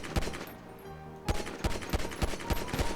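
Gunfire from GTA Online, a burst of sharp loud shots followed by a rapid string of closely spaced rounds in quick succession.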